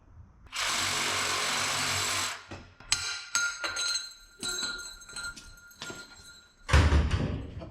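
Power tool with a dull blade cutting through an exhaust pipe on a square-body truck, a loud steady burst for about two seconds, then scattered clanks and scraping, with a heavy thump near the end.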